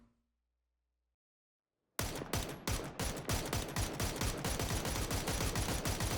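Gunfire in PUBG erupts after a brief silence into dense, rapid volleys of loud shots that continue steadily without pause.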